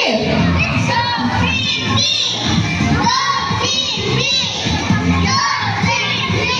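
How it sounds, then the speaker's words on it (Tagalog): A crowd of children at an afternoon event in Daet shout and cheer together for Team B, loud and continuous, with voices overlapping in repeated bursts. "So, isisigaw nyo naman ang Go Team B!"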